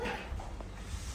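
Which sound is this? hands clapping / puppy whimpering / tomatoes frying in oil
puppy whimpering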